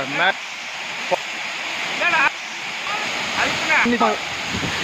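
Constant rushing roar of the Megam waterfall in the Kalvarayan Hills fills the background while several people talk over it nearby, some bathing in the water.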